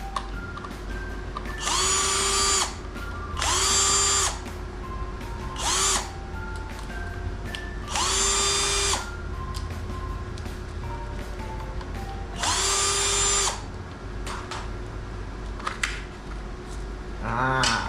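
An electric power tool loosens the wheel nuts on an electric bicycle, whirring in several short bursts of a second or two separated by pauses, close and loud with a faint background hum.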